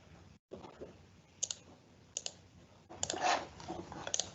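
Quiet computer mouse clicks sound close and crisp, a few single and double clicks spaced apart over faint room noise while a SharePoint folder is synced.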